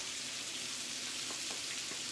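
Garlic sizzling in a pan with peppers and onions for chicken fajitas, a steady broadband frying hiss with a few faint clicks of stirring, no voices.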